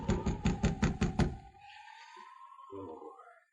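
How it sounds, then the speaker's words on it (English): Six quick, evenly spaced knocks on a wooden cabin door in a Yukon radio drama, loud and close, followed by a quiet pause and a short spoken line. "I guess she didn't hear the knock."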